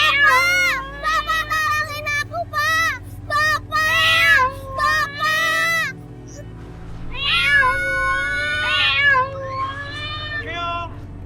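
A cat meows repeatedly and loudly in a series of drawn-out, wavering cries, close by, with a short pause midway before more meows follow.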